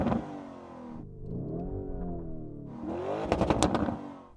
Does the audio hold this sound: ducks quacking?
no